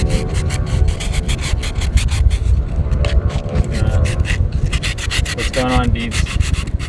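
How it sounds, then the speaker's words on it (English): Fast, rhythmic rubbing strokes of sandpaper on a wooden sailboat bowsprit being prepped for varnish, close and steady, with a couple of brief spoken words mixed in. "Just sanding so we can varnish this."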